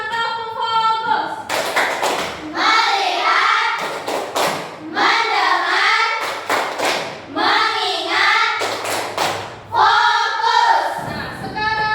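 A school class performs a rhythmic focus clap, with groups of sharp hand claps in repeating patterns alternating with loud chanted voices, close and energetic throughout.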